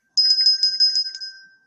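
A hand bell rings close and loud in a steady rapid shake, its bright metallic tone pulsing about seven times before tapering off, with no voices.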